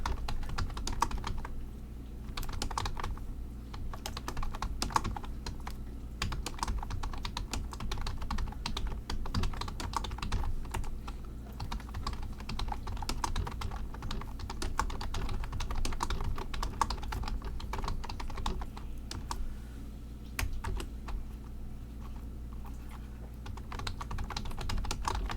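Steady, rapid typing on a computer keyboard while a PowerPoint slide is built for an ITQ exam practice, with dense close clicks running continuously for the whole stretch and no talking over them.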